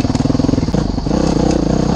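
A modded 2011 Honda CRF 450X dirt bike engine pulses loudly and close, its rapid thumping exhaust note steady and then rising slightly as it pulls away in second gear on a trail.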